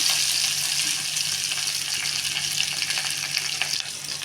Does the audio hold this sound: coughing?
no